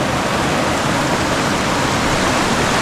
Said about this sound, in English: Slightly interesting river crossing right at the beginning